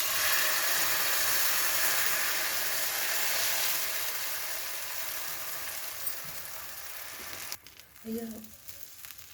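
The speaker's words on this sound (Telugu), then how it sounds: "ముందుగా మనము ఎగ్ కలిపి పెట్టుకున్న మిశ్రమాన్ని ఆమ్లెట్ వేసుకోవాలి." Beaten egg omelette mixture sizzles loudly in a frying pan, a dense steady hiss that fades gradually, ending with a short spoken exclamation and a few clinks.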